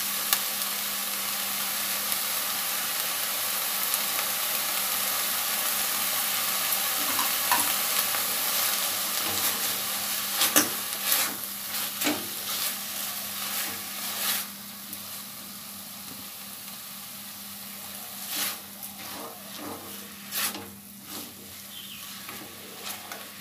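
Chhana filling stirred with coconut and cardamom in a pan for taler bhapa pithe, a continuous soft sizzle and hiss with irregular scraping strokes that grow sparser and quieter toward the end, no voices.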